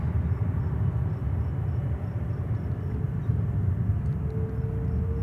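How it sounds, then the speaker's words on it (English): An Airbus A330 with Rolls-Royce Trent 700 engines roars steadily at a New York airport, a continuous broadband jet rumble that stays loud and even throughout with no talk. "Yes, A330 with the mighty Rolls-Royce Trent 700. The sound machines."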